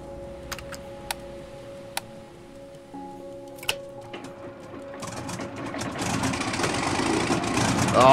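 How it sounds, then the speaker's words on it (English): A boat engine in the survival game Stranded Deep, preceded by a few sharp ticking clicks, then cranking over and rising into a steady, building mechanical drone that grows louder toward the end. "Hold E to start engine."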